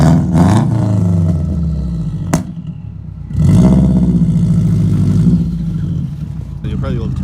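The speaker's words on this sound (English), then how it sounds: "The car is definitely really raspy." Catless Subaru Forester XT with a raspy exhaust, revving up loudly twice in close range, with a brief quieter idle between the pulls and a sharp clack partway through.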